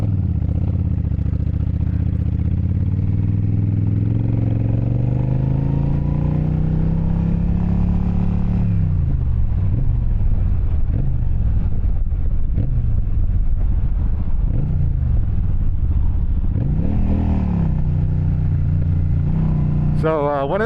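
A new motorcycle, bigger than a Yamaha R3, with its engine droning and rising under acceleration while riding, wind buffeting the microphone and a rider talking over it.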